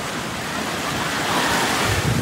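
Sea waves at a beach in Shenzhen, a broad continuous wash of surf with wind buffeting the microphone, swelling slightly toward the end, no voices.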